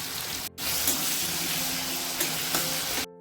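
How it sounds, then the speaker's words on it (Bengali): Halved, salted potatoes fry in mustard oil in a wok, giving a steady, close sizzle and crackle. The frying noise cuts out briefly twice. "সবার প্রথমে আলুগুলো ভেজে নেওয়া হচ্ছে, দুটো করে কেটে রাখা।"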